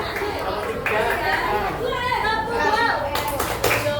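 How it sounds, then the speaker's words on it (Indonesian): Classroom clapping for group 2 in a teacher training session, a scattered burst of hands from a small group, with chatter and voices mixed in throughout. "Oke, kita kasih tepuk tangan dulu ya untuk kelompok 2 ya"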